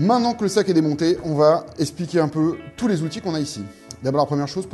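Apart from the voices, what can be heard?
None of the usual background noises is heard.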